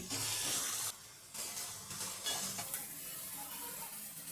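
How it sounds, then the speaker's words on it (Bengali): Chopped carrots being stirred and fried in a pan for sooji upma, with a steady close sizzle broken by brief pauses and scraping stirs, and no talking. "গাজরগুলোকে আমি প্রথমে ভেজে নেব তো গাজরগুলোকে আমি নেড়ে চেড়ে ভেজে নিচ্ছি"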